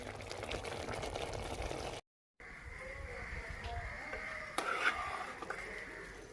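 Cauliflower and chicken simmer in water in a pot, a steady close bubbling and hiss with a brief gap and a faint clink near the end.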